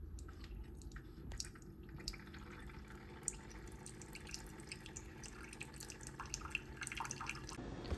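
A Keurig K Supreme coffee maker runs a vinegar descaling rinse, liquid trickling and dripping steadily into a mug over a low machine hum, faint and continuous.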